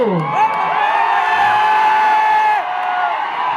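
A crowd at a Punjabi film promotion event cheers and whoops loudly and steadily for several seconds before the noise dips slightly near the end.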